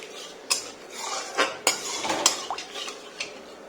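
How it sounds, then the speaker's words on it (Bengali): A spoon scraping and clinking against a pan while whisked yogurt is stirred continuously over a low flame, irregular metallic knocks and scrapes close by with no talk. "এটাকে এবার ভালো করে কন্টিনিউ নাড়তে হবে গ্যাসটা একদম লো ফ্লেমে আছে"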